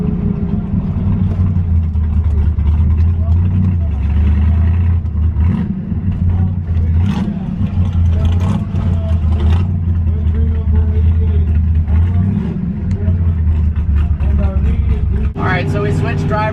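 A Shelby GT350 engine runs steadily with a low, continuous drone while driving at altitude, loud and close, with people talking over it throughout.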